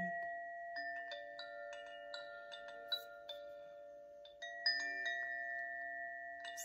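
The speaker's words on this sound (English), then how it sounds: "Some interesting chimes." Delicate bell-like chimes from a Mudita alarm clock ring out in a gentle sequence of sustained tones, soft and melodic with a few brighter strikes, growing louder over time.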